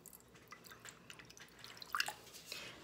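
Water is poured into a cooking pan while acorn squash is prepared, heard as faint, scattered trickles and small drips that grow slightly busier toward the end.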